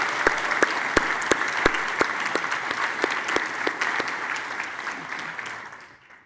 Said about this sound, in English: Please join me in giving the entire group one last round of applause to these esteemed members of the Cooper Union.